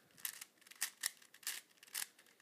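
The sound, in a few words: V-cube 6x6x6 puzzle cube clicking as it is turned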